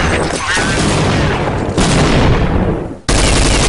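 Counter-Strike gameplay gunfire: dense, loud bursts of shots and booms overlap in a continuous barrage, briefly dipping before another sharp volley.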